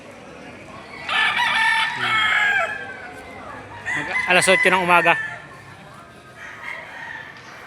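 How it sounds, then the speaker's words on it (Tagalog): Roosters crow loudly nearby while hens cluck in the background at a livestock auction market in Padre Garcia, Batangas; a person speaks briefly over the birds. "marami pa rin nakalatag na mga manok dito"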